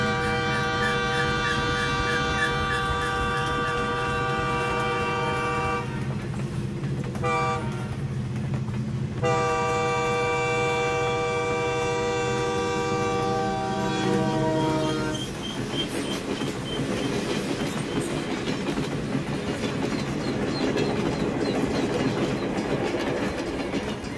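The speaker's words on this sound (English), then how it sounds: "And did I tell you about the trains?" A train passing near an RV campsite, with a long sustained horn blast broken by brief gaps over a continuous rumble, then rhythmic clattering of wheels on the rails.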